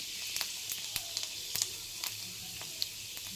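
Panch phoron spices sizzle in hot oil, a faint, steady hiss with scattered tiny pops and crackles close by.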